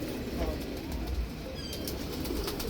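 Old-breed pigeons on a rooftop in Jammu coo softly as wings flap and flutter close by, with continuous rustling and no talk.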